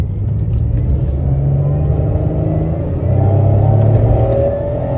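A 2004 Chevrolet Monte Carlo Intimidator SS engine revs up hard and climbs in pitch as it accelerates, loud and close, with a deep rumble underneath.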